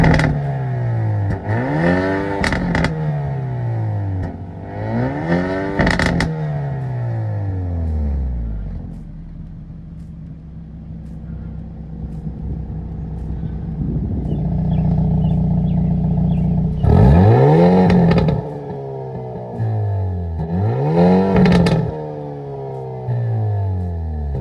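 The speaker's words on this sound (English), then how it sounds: "attached to an exhaust that is one of the best sounding factory exhausts" A 2022 Hyundai Elantra N's factory exhaust revs hard several times, rising and falling in sharp bursts, idles with a low rumble, then revs again in repeated pulls.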